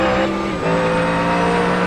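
Race cars roar around Imola in a racing game, a loud sustained engine drone with a gear shift partway through, close and continuous, no voices.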